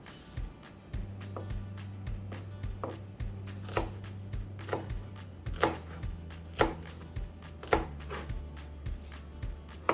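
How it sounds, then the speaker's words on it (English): A knife chops food into small pieces on a cutting board, making a steady series of close, crisp knocks while a low hum runs underneath. "I cut it into strips, and then I cut those into smaller pieces"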